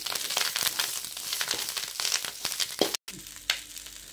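Curry leaves dry-roasting in a pan without oil give off a soft crackling and rustling as they are stirred, with irregular crisp pops at moderate volume.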